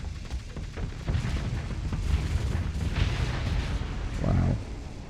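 Ship guns firing in the space combat video game Star Sector, a continuous rumbling barrage of heavy booms and blasts, loud and dense throughout, with a stronger impact near the end.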